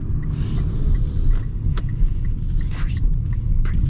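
A 2024 Mitsubishi Outlander Sport setting off from a stop, low road and engine rumble heard from inside the cabin with a few faint clicks and knocks over the drone, no talk.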